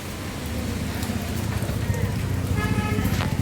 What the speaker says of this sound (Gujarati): જો વરસાદ ચારે બાજુ વરસાદ આવે છે.